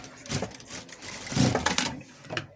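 Sewing machine stitching an embroidered blouse, a close, moderately loud whirring run that speeds up and eases off in short bursts across the clip.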